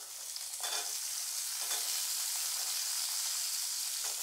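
Small onions sautéing in hot oil for an egg curry, a steady close sizzle and crackle with a few soft scraping stirs, no voices.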